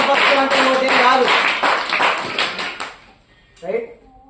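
A church congregation claps loudly in quick, steady rhythm for about three seconds while voices carry over the claps, then the clapping stops and only a brief bit of talk follows.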